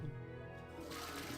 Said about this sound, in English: No, I can't pee. I can just use the flush.